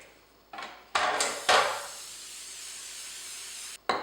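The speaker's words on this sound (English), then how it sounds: "You want to spray it with non-stick cooking spray." Several short hissing sprays of non-stick cooking spray onto a baking pan in quick bursts, close and fairly quiet, with a brief clatter at the end.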